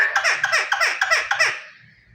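A pet mynah bird gives a rapid run of about six bright, chirpy, laugh-like calls that resemble a baby's laughter, close and loud, then trails off into silence.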